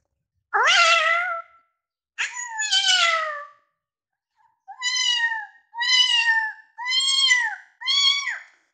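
A performer's voice imitates two cats fighting, with one tiny kitten's thin mew among them: a run of seven wavering, whiny meows in separate bursts, loud and close, with short pauses between them and no other sound.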